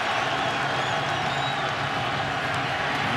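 A stadium crowd at an NFL football game roars as a dense, continuous wash of distant cheering, steady and unbroken across the whole moment.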